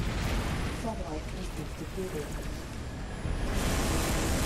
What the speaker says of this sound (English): Some broadsides, there we go.